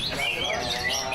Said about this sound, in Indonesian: Ratusan penggemar manuk kicau ketok serius neloi manuk sing ngeru lomba ning festival manuk kicau